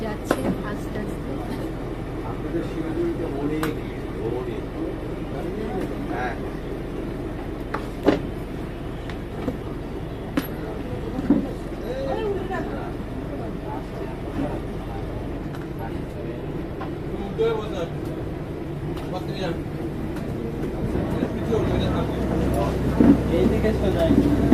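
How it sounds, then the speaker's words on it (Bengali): A passenger launch boat pulls away and moves slowly, its engine giving a steady low rumble with a constant hum beneath scattered clanks and knocks, while people talk on board throughout. "লঞ্চ ছেড়ে দিয়েছে, যাচ্ছে আস্তে আস্তে।"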